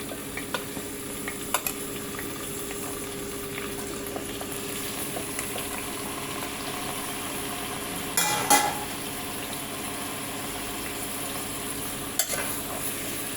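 Half a kilo each of tomatoes and green chillies fry in a pan with a soft, continuous sizzle, broken by a few louder stirring scrapes and clatters, with no talking.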